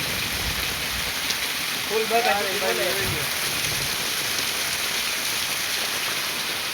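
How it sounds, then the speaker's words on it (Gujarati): Heavy rain pours down on a flooded village street, a dense, constant roar of drops on surfaces, with a person speaking briefly over it. "અમારા મકરસરમાં કેટલો વરસાદ જોઈ લ્યો તમે"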